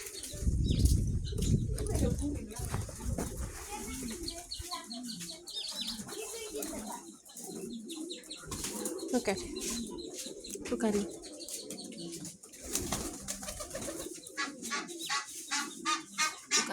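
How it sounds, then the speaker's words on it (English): Ornamental pigeons and doves at a bird sale coo and rustle, with wings flapping loudly at the start and soft chirps throughout, close by while a person talks over them. "You see, the doves are there."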